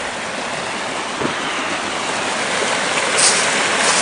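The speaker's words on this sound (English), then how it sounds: "Here's a waterfall with water." A small waterfall in a garden creek gives a steady, broad rushing splash that stays even and fairly loud throughout, with no voices.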